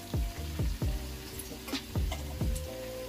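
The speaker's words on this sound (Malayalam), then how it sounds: "അപ്പം നമ്മൾ നേരത്തെ പറഞ്ഞ മിക്സ് ഇടുകയാണ് എന്നിട്ട് പയ്യെ നമുക്കതിനെ വഴറ്റിയെടുക്കാം" A beef curry mix sautés in a very hot pan for traditional Kerala beef curry, crackling and sizzling, with a few sharp clunks and scrapes of stirring close by.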